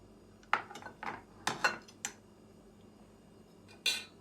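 A metal spoon clinks against a serving dish while fruit salad of mango, strawberry and grape is spooned onto frozen yogurt; several short, close taps come in a loose cluster, then a single brighter clink after a pause.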